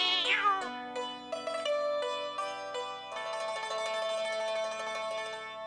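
A cat in the Pink Panther video game lets out a sharp rising meow at the start, then game music with sustained tones carries on beneath it.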